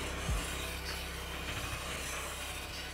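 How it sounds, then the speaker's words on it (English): A knife's primary bevel is rubbed in a steady figure-eight motion across an M.Power SBS triple diamond sharpener, giving a continuous close gritty rasp with a faint knock near the start. "I'm just polishing up the primary bevel at the moment."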